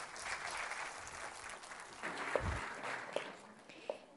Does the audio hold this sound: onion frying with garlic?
no